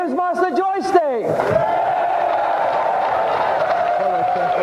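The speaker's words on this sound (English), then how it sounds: "A round of applause for our champion, Chevron Hart!" A studio audience at the Gamesmaster TV game show bursts into sustained cheering and applause for the champion, a dense wash of crowd noise that swells right after a brief spoken line and carries on to the end.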